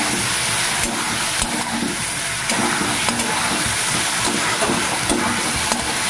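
A ground ginger, garlic and cumin spice paste sautés with onions in a hot pan for a Bengali prawn and coconut dish, giving a loud, dense, continuous sizzle with faint stirring scrapes close by.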